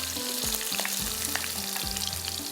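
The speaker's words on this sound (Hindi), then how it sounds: "प्याज को थोड़ा सा फ्राई करते हैं।" Onion frying with garlic and cumin in a hot pan gives a constant close crackling sizzle, with low, tonal stove or extractor hum running beneath.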